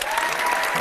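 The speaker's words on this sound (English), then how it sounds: "So I'm going to give you both a round of applause." Brief burst of steady applause from a small group, filling the whole moment at a constant level with no voices over it.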